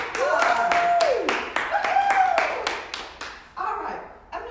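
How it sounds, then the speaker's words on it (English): Children at a library-style storytime clap in scattered bursts, a handful of sharp hand claps mixed with high squealing voices and chatter, fairly close and lively. "Give yourselves a big round of applause."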